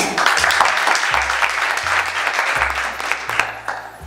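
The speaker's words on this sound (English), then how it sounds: "Can we give Congressman another applause?" Sustained audience applause for Congressman Keith Ellison at a Somali American community gathering, dense steady clapping from a crowd filling the room for about four seconds with a low hum beneath.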